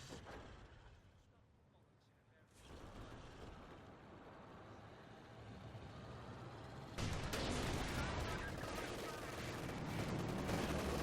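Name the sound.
Panzer IV tank firing in Company of Heroes 2 video game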